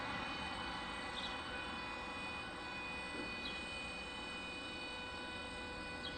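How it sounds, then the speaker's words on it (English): A Boeing 717 airliner arrives at Detroit airport on a calm evening, a faint, steady engine drone heard from a distance that holds without change throughout. "we check out this 717 arriving"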